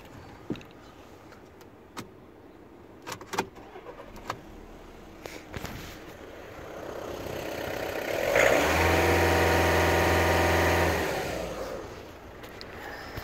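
A VW Passat's 1.6 TDI CAYC diesel engine cranks and catches after scattered clicks and handling noises, then settles into a steady, loud idle that fades slightly toward the end.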